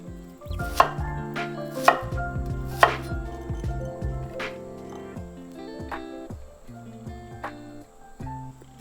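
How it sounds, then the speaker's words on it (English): An onion is sliced and cubed with a knife on a cutting board: a few sharp, louder chops at first, then quicker, softer cuts, close up with no talking. "Slice 1/4 of onion for broth. And cube the rest for the stew."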